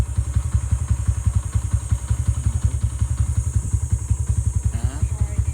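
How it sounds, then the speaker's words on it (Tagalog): A motorcycle engine on a ride near Cavinti Falls chugs loudly and close with a rapid, even low-pitched pulse, steady throughout with a slight shift in tone near the end. "Ito yung motor."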